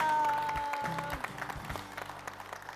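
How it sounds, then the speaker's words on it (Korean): Church congregation applause welcomes a testimony speaker, a dense wash of clapping that fades gradually while a sustained organ or keyboard tone plays underneath. "박수로 맞아주시기 바랍니다"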